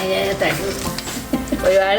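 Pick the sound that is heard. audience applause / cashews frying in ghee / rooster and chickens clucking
cashews frying in ghee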